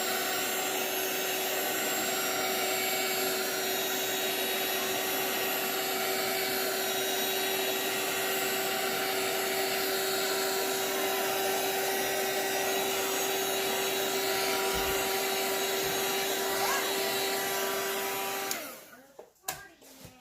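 A handheld drying tool blows on a freshly painted coloring page with a loud, steady whirring drone and a constant hum tone. It runs unchanged for about eighteen seconds, then cuts off and leaves a few faint handling noises.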